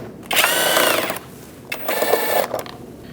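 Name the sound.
power driver removing T15 Torx bolts from a car fender liner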